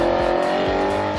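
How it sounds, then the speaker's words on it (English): An Audi R8 V8 engine roars loudly at high revs, a continuous throaty growl with brief pitch dips between quick rev pulses, close and alone. "Now, why I'd get a V8 is because it sounds like this."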